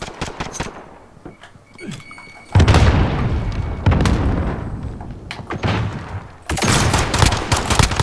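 M19 pistol gunfire during a first-round tournament gunfight in a video game, with a few sharp shots and then heavy loud bursts of rapid firing and booming impacts, broken by brief pauses.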